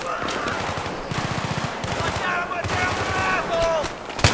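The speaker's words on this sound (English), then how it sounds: "You're getting shot so many times." Battlefield 3 co-op firefight with close, rhythmic automatic gunfire in rapid bursts, steady clattering volleys and a few whizzing ricochet-like tones over the shooting.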